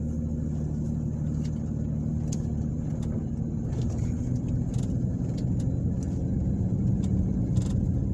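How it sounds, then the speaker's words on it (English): A car drives down Liberty Avenue in Ozark, Alabama, heard from inside as a steady low road rumble and engine hum, with faint clicks and ticks over the drone. "I'm gonna drive down Liberty Avenue."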